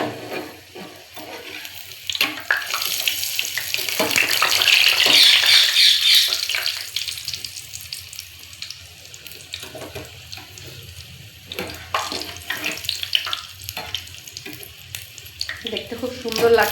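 Pakoras fry in overheated oil, giving a bubbling sizzle and crackle that swells loudest midway, then settles. A voice speaks intermittently around it.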